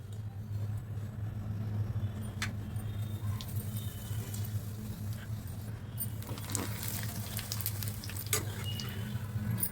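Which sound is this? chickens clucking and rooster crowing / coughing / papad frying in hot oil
papad frying in hot oil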